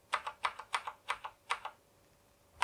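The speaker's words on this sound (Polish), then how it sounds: "Znaczy klikać te klawisze i wybierać kolejne kolory." Keys clicking on a Thermaltake X1 Premium RGB mechanical keyboard: about nine crisp, close presses in an uneven quick rhythm, then a short silence before one more click.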